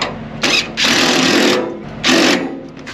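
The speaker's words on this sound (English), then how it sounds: "this angle is not a good angle for my drill" A power drill driving bolts, probably on a truck's mud flap bracket, whirs in two loud sustained bursts with a short gap between them, close and alone.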